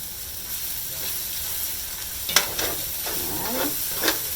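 Butter sizzles and hisses in a hot pan with bay scallops, a steady frying crackle close to the listener, with a few sharper spits and stirring scrapes rising over the constant hiss.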